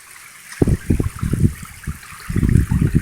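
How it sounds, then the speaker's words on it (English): Rapid flood water pours downhill through a front yard, rushing and sloshing in loud, uneven surges broken by a short lull, close by with no voices. "This is rapid water coming from the neighbors uphill through the front yard"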